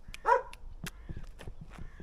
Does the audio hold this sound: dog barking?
yes